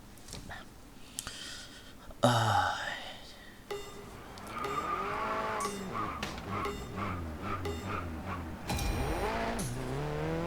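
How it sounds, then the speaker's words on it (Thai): Citroen Xsara WRC rally car in the Racing Master game: engine revs rise and fall in sweeping pitch changes with sharp gear shifts and occasional skids, while someone talks over it in places. "เสียงรถก็หลายคนชอบกัน แต่ว่าไม่รู้ว่าทุกคนจะชอบหรือเปล่า มาลองดูกันก่อน"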